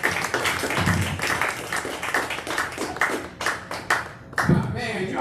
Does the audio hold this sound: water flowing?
no